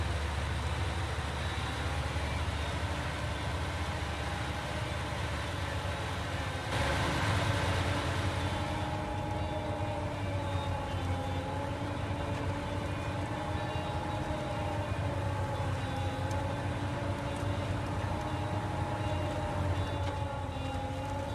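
Heavy loaded truck in SnowRunner, around 30 tonnes with cargo, hauling a delivery to the port on Drummond Island, its engine droning steadily with a faint wavering whine riding over the low rumble, no voices.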